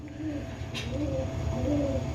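Pigeons at a seller's loft, soft low coos repeating in a slow rhythm nearby, with a faint rustle partway through.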